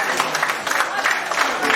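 Audience at a community public meeting claps together in a steady, dense patter that fills the short stretch, a moderately loud crowd sound with no talk over it.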